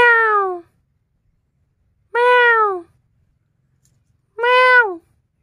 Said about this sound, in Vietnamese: Mèo.